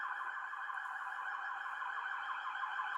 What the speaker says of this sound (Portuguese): Deixa eu passar a sirene.